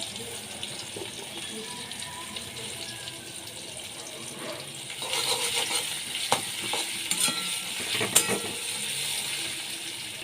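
Ten to twelve crushed garlic cloves tossed into oil with already fried potatoes for aloo dum: a soft background hiss that swells into louder sizzling about halfway, with metallic clicks and scrapes from stirring.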